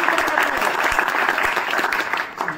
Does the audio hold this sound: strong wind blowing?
no